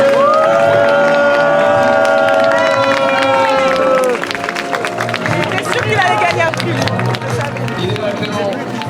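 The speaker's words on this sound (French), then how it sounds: "On peut l'applaudir très fort." An audience applauds the winner of a fashion contest: dense clapping and crowd noise swell in the second half, following a bright musical passage, with voices mixed in throughout.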